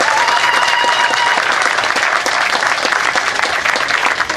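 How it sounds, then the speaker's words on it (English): A crowd applauds at an outdoor dedication ceremony for the Ethiopian Cultural Garden in Cleveland, loud dense clapping sustained throughout with a faint whistle-like tone early on. "that deserves applause"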